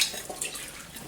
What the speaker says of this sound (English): I'm just going to add some water here.